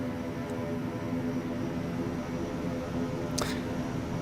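Simulated King Air C90B turboprop engines run at a steady, loud drone with a tonal hum through a flapless takeoff roll, and a brief sharp click sounds partway through.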